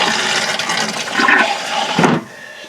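An RV toilet in a 2004 KZ Coyote 23CT, with antifreeze in its plumbing, flushes in one loud close rushing burst that cuts off sharply after about two seconds.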